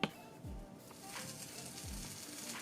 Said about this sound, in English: Listen to it sizzle. It's got quite a nice sizzle.